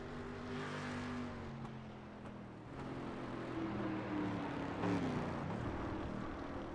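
Chevrolet race car in a racing video game heading downhill into a heavy braking zone, engine note shifting and dropping as it slows, with revving and gear changes, continuous and fairly close, no talk.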